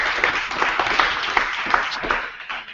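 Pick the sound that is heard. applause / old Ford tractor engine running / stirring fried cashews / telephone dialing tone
applause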